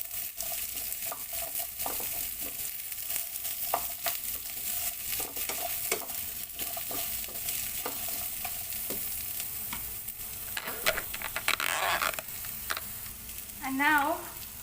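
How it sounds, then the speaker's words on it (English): Onion sautéing in a pan for pork and chicken adobo, a soft steady sizzle with scattered scraping and stirring clicks, plus a few brief louder clatters near the end. "And gonna just saute our onion until it gets translucent"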